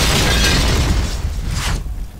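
A loud explosion from a grenade in the online shooter Point Blank bursts with a heavy boom, then rumbles and fades over about two seconds.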